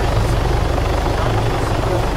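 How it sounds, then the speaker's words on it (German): Helicopter in the Arma 3 Altis Life game, its rotor and engine forming a loud, steady low thudding drone that fills the whole short stretch without a break. "Alter, derbe laut der Heli hier."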